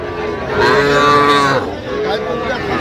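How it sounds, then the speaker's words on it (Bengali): Young bull calves at a rural cattle market in Bangladesh low loudly and repeatedly, one long close moo swelling and fading, followed by a second, softer call amid busy market murmur. "ষাঁড় বাচ্চা, ষাঁড় বাচ্চা, সুন্দর বাচ্চা দেখছিলাম এখানে"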